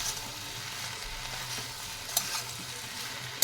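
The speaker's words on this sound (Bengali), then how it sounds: "দিয়ে আবারও 2 থেকে 3 মিনিট আমি ভেজে নেব ভালো করে ঢাকা দিয়ে" Vegetarian pui greens and vegetables fry in a pan with ginger paste, making a soft, constant sizzle interrupted by a couple of small stirring clicks, with no voices.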